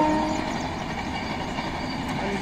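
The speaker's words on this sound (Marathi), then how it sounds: "तुम्ही कसं धावते बघा कोकण रेल्वे" A 22-coach Konkan Railway train running past, a continuous heavy rumble and clatter of wheels on track, steady and fairly loud from start to finish.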